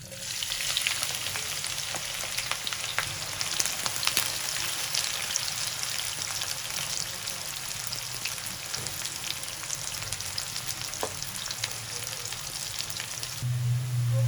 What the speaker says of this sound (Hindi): हमारे पास ये 1 पाव प्याज है स्लाइस में कटे हुए, अब हम ये डालेंगे